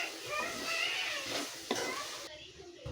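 Broad bean and tomato curry being stirred in a pan, a steady scraping and soft sizzling churn that carries on with no talk, easing off near the end.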